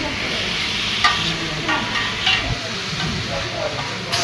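Chicken gravy with vegetables sizzles on a hot pan at a street food stall, a steady hiss with occasional stirring clinks, while voices talk in the background.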